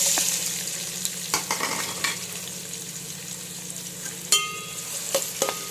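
Onions fry in oil left over from frying chicken, a continuous soft sizzle with occasional sharper stirring scrapes and clicks of a utensil on the pan.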